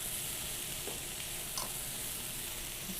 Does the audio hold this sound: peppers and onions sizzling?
yes